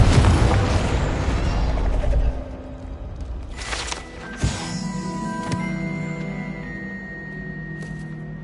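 A Confringo fire spell explodes in Hogwarts Legacy: a loud, rumbling boom at the start that fades out, followed by a sharper burst and lingering magical shimmering tones.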